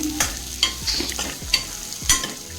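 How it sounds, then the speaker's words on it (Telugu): Sprouted black chickpeas fry lightly in a little oil for a curry, with soft close sizzling broken by a few sharp scraping strokes of a stirring spoon, about one every half second, and no voices. "ఇలా మొలకలతో శనగలు వేసేసుకొని దాన్ని కొంచెం లైట్గా ఇలా ఆయిల్లో ఫ్రై చేసేసుకోవడమే"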